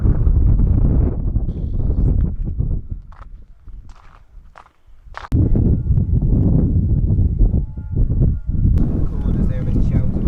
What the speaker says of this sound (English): that's really windy as well